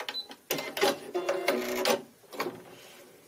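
A sewing machine stitches around the hem of a sleeve on a party dress, running in short whirring bursts with brief pauses between them, close and fairly quiet.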